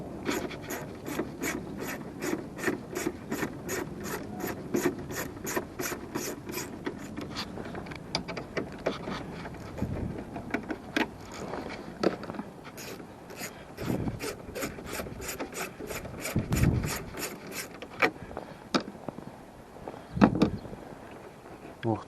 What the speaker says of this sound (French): Bon, là c'est un cliquet. On desserre les vis.